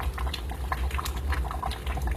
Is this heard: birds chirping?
no